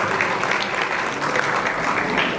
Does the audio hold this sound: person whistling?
no